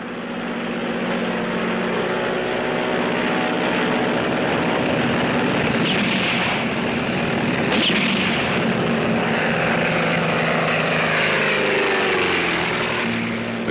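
An airplane engine roars loudly and continuously as the aircraft lands then pulls up, with a sharp surge partway through and a sustained rumbling drone throughout, no voices.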